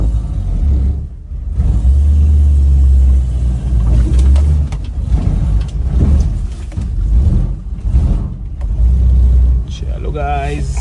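An old Gypsy engine rumbles and revs as the car pulls away after the handbrake is released, its low drone swelling and easing through gear changes while people talk inside the cabin.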